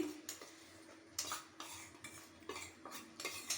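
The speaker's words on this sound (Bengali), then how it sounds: "চিনি শিরার মধ্যে আমি বাদামের গুঁড়ো দিয়ে দিলাম দিয়ে এবার আমি ভালো করে এটা নেড়ে দিব" Ground peanut paste being stirred into sugar syrup for peanut barfi: faint, irregular scrapes and clinks of a spoon working around a pan, quiet and close, with no talking.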